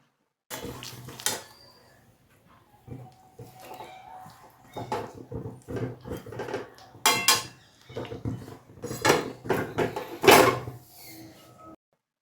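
A pot of curry comes off a home kitchen stove with a series of metallic clanks, scrapes and knocks, uneven and close, broken by short quiet gaps.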